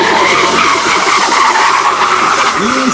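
A BMW drifts at a tuning and drifting show in Paris, its tires skidding and squealing loudly and continuously over a roaring engine, with faint voices underneath.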